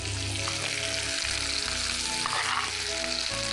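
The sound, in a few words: onions and tomatoes sautéing in a pan for sambar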